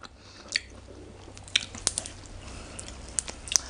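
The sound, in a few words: chewing fresh vegetable leaves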